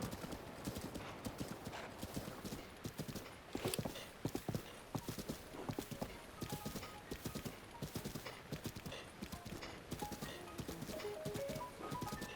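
Horse hooves clatter in a steady, quick clip-clop as a mount climbs a steep incline in Breath of the Wild, the hoofbeats fairly quiet and continuous with occasional louder steps.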